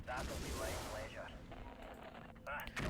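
Weapons fire in the mech combat game MechCommander 2 as LRM turrets are targeted, a dense run of booming shots and blasts lasting about two seconds before thinning out into quieter mechanical noise.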